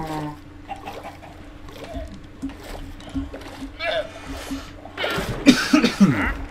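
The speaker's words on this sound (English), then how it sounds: "Dirty cough, holy." A harsh, rough cough bursts out near the end, loud and close, following a stretch of quieter background noise and some brief speech.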